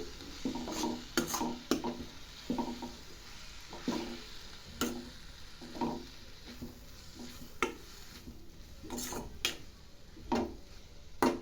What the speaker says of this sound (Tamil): ஸ்டவ் நல்லா சிம்மில் வச்சு நல்லா கலந்து விடணும்